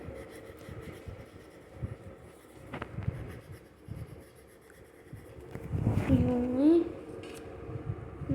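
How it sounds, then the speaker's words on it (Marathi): Marker or chalk writing on a classroom board during a decimal place-value lesson, soft scratchy strokes running under a voice speaking, with a brief louder squeak near the end. "परत एकदा इथं या साईडला पण लिहिते मी खाली"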